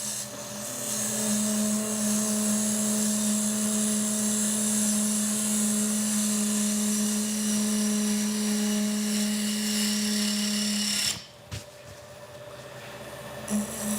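Wood lathe turning a vase with a gouge, a steady loud tonal whine with a cutting hiss running almost continuously, then a brief break near the end before the hum resumes; no talking.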